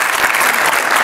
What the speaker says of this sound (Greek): Χειροκρότημα, ρε παιδιά.